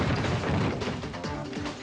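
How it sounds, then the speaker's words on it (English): A man crashes down through drop ceiling tiles and their anchors onto a counter and floor, producing a loud burst of smashing impacts followed by scattered thuds and clatter. "down he came, crashing through the ceiling tiles and the anchors"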